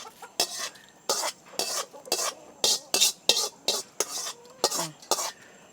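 Hot tempering is poured into coconut-free chutney and stirred, heard as a run of about a dozen distinct, rhythmic scraping strokes of a spoon against a vessel, each separated by brief quiet gaps.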